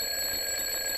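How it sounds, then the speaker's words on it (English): An electronic alarm bell rings in a steady, unbroken tone, loud and close, heard alone for about a second. "Oh, that's the alarm bell."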